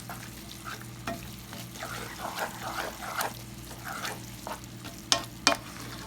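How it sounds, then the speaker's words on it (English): Chili con carne with ground beef simmering and being stirred in a pot, a continuous close bubbling sizzle with scraping stir strokes and a couple of louder clinks toward the end. "I'm going to let that simmer into that ground beef."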